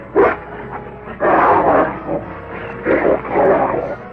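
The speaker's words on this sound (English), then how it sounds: "Killer dogs he had not yet learned to tame." Killer dogs in a teenage caveman movie trailer bark and snarl in loud, close bursts, several rough barks spread across the moment amid dramatic trailer sound.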